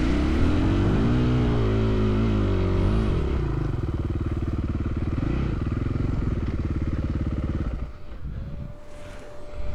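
A Husqvarna FE501 enduro bike climbs an off-road hill in second gear, its engine droning loud and close with pitch rising and falling under load, then easing off near the end.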